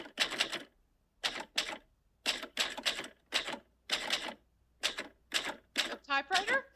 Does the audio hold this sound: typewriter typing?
yes